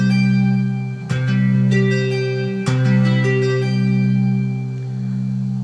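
Guitar playing a short pattern, a few sustained notes with two sharp attacks ringing over a steady low tone, close and clear with no voices.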